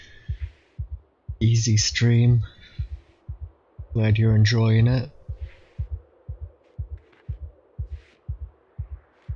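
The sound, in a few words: character's claustrophobia heartbeat in Project Zomboid video game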